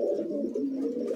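A short burst of continuous, low, rolling cooing from old-bloodline Madrasi pigeons, heard up close.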